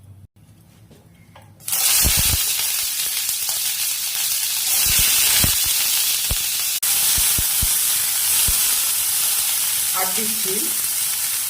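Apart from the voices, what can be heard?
onions frying in hot refined oil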